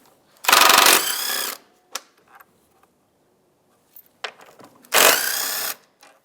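Ratchet wrench loosening 10 mm bolts on the intake air duct of a 2007-2015 Mazda CX-9, two loud sustained bursts of rapid clicking separated by quieter taps and clinks.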